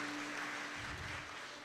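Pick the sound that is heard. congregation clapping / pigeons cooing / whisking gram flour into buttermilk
congregation clapping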